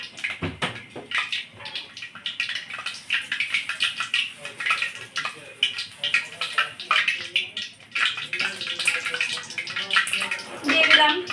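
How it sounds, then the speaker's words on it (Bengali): Cumin seeds sizzle in hot oil in a pan while a fish curry with potato and cauliflower is being cooked. The crackling hiss is steady and close, with a voice speaking over it. "আমার তেলটা গরম হয়ে গেছে, তাতে আমি সামান্য জিরে ফোড়ন দিয়ে দিলাম।"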